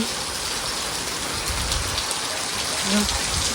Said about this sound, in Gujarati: આમ જો વરસાદ જો તમને દેખાતો નથી કેવો વરહે છે